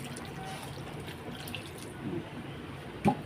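Water poured from a vessel into a cooking pot of spiced potato curry in a home kitchen, a steady soft splashing stream that runs on, then ends in a brief louder clatter.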